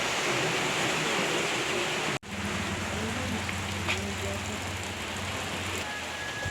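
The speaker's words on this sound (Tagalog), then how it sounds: "Antod pa karon sige pagyapo ga ulan." Steady rain falling continuously in a rural Philippine village, an even broad hiss with a brief dropout early on and faint murmuring voices beneath it.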